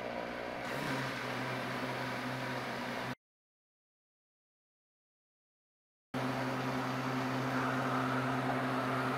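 A kitchen blender whips a powdered-juice truffle dessert mix with a steady, quiet motor hum and a droning tone. The hum cuts out completely for about three seconds in the middle, then resumes.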